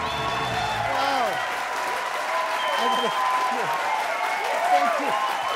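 A talk show studio audience applauds steadily for the host's entrance, a sustained patter of clapping with a few whoops, while someone talks over it.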